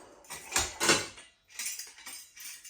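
A metal food mill is set down onto a bowl, giving two close clattering knocks followed by a few lighter scraping clinks as it settles.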